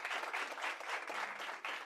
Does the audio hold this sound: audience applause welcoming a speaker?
yes